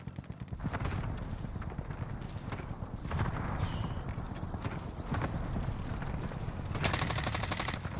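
An AUG rifle in Warzone, buffed after an update, fires in sustained rapid bursts, a fast rattling run of shots that continues almost without pause, fairly close and moderately loud.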